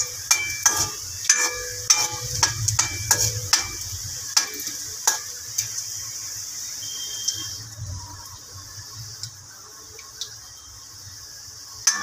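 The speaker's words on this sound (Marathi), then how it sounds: "लसूण, थोडीशी राई आणि थोडेसे जिरे। लसूणचा थोडासा कलर चेंज होईपर्यंत त्याला फ्राय करायचं।" Garlic, mustard seeds and cumin fry in hot oil in a pan, a soft continuous sizzle broken by sharp popping crackles and spatula scrapes, busier at first and thinning out toward the end.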